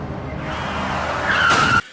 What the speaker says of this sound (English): And then his car fucking plows into him